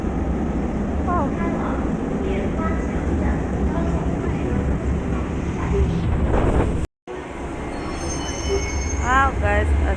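A crowded Beijing subway train rumbles steadily with wheel squeal and station noise, a brief dropout midway, and people talking faintly in the background.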